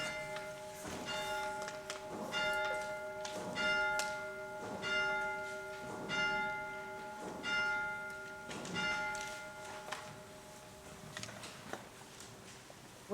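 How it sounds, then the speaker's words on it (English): Church bell tolled by a new vicar marking the start of his ministry at his installation; single loud strokes ring out roughly every 1.2 seconds, each ringing on under the next in a steady, resonant series. "I toll the bell to signify the start of my ministry"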